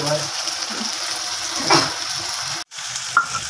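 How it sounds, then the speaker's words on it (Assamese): Ginger garlic paste sizzles and spatters in hot oil with bay leaves, a steady frying hiss with a brief stir around the middle and a short break near the end. "এতিয়া দি দিলে আদা নহৰু পেষ্টখিনি এতিয়া পুৰা লৰাই আছে দেই"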